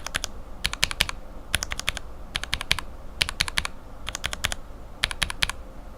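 Typing on a mechanical keyboard fitted with Cherry bottom-housing switches produces crisp, bright keystroke clacks in quick clusters of four to six presses, separated by brief pauses, close and clear over a faint background hiss.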